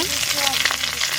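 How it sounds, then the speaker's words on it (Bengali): Bay leaves and dried chillies sizzling in hot mustard oil in a pan, a steady crackling fry with small pops and a faint high whine in the background. "কড়াই গরম হয়ে গেছে, সরষের তেল দিয়ে দিচ্ছি কড়াইতে। তেজপাতা, দুটো শুকনো লঙ্কা"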